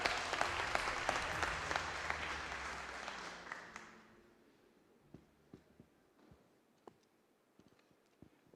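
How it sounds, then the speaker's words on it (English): A short burst of audience applause at a UK Barista Championship semi-final, dense clapping that fades after about four seconds, leaving scattered faint clicks and taps in a quiet room. "Round of applause."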